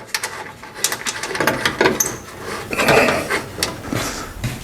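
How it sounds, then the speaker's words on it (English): Bolts being tightened with a wrench or ratchet while a dashboard is fitted into a car under restoration: close, irregular metallic clicks, clanks and rattles of tools and hardware, with no talking. "Got a few bolts to tighten in here."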